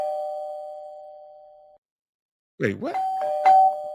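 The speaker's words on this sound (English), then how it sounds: "That sounds like the Three's Company doorbell." A two-tone doorbell chime like the one from the sitcom Three's Company sounds close and clear, a sustained ding-dong that fades, then after a short gap a voice speaks over a second chime.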